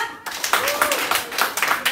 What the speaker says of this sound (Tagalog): Ang lahat po ng pinagpala ay pumalakpak.